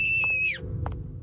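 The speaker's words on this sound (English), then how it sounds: "Some blood-curdling screams." Long, shrill, piercing scream from the horror video game Settled that slides downward and cuts off, followed by a few short, muffled knocking thumps over a low rumbling background.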